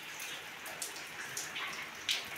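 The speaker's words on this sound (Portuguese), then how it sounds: "acabei de chegar em casa, a chuva caiu, ó" Rain falls at home in a steady patter with scattered sharper drops hitting nearby surfaces, with no voices over it.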